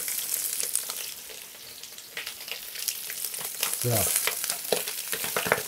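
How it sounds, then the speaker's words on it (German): A chicken leg sizzles skin-side down in clarified butter on a grill, crackling steadily and close with sharp pops, while a voice says a brief word. "dann setzen wir die Hähnchenkeule mit der Hautseite nach unten hier rein"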